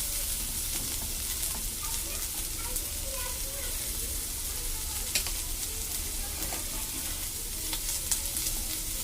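Chopped onions and green chillies frying in hot oil for a restaurant-style Telugu fish fry, a dense, steady sizzle that fills the whole stretch, loud and constant with faint stirring scrapes in it.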